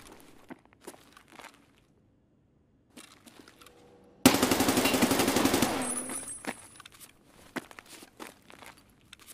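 Automatic M4 rifle fire in Escape From Tarkov on the Labs map: one loud, dense burst of rapid shots lasting under two seconds, set between quieter footsteps and shuffling gear.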